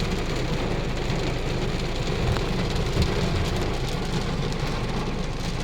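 Heavy rain pours in a steady, dense roar during a stop on a ride, continuous and loud with no speech over it.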